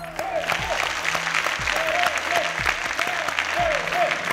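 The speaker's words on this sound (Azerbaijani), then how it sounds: "Alqışlar telliyə." A studio audience breaks into applause for Telli on a quiz show, a loud, dense clapping that holds steady throughout, with a rhythmic thump and a little crowd noise underneath.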